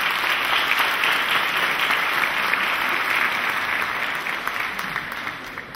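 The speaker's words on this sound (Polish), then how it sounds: "Wielkie brawa Miss Eko." Loud, dense applause from an audience at a regional Miss Polonia beauty pageant in Łódź, sustained throughout and easing slightly at the end.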